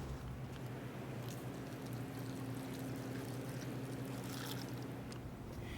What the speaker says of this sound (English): we are going to continue to filter our water just to see how clean we can get it